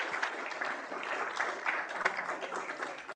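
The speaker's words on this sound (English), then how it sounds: "please give a huge round of applause for Frederick." Steady applause from an audience at an international show-and-tell meetup, a dense wash of many hands clapping continuously at moderate distance, without a break throughout.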